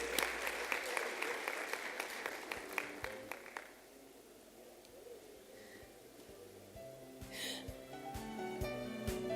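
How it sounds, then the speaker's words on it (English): An audience at an awards ceremony claps for about four seconds, the applause fading out and leaving quiet room tone with scattered faint knocks and a brief burst of noise. "Let's give her a round of applause."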